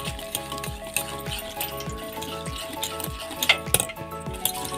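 Ghee Mysore pak mixture stirred in a pan on the stove, with soft bubbling sizzle, spoon scrapes and occasional metallic clinks against the pan, quiet and steady with faint background tones.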